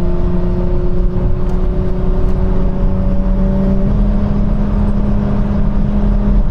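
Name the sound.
Nissan Skyline car driving on German autobahn at 155 km/h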